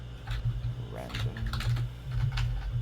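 Fast, loud, clicky computer keyboard typing in short bursts of clacks, heard close over a low steady hum, with no voices.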